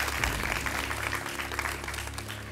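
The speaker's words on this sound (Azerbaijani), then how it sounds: "Hidayət Həsənzadəni biz alqışlayırıq." Audience applause for contestants on an Azerbaijani television quiz show, a steady dense wash of many hands clapping that holds evenly throughout, with no voices over it.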